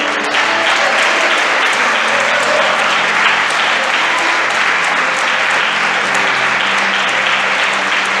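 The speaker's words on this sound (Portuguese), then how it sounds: "Então aplauda o Senhor." A church congregation claps together in sustained, dense applause that fills the room at a steady loud level for the whole stretch, with a faint voice underneath.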